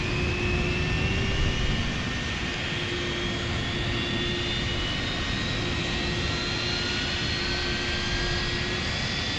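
Jet engines of a Scandinavian DC-9 spool up in a flight simulator, a steady loud whine and roar with rising tones, continuous and unbroken, with no talk.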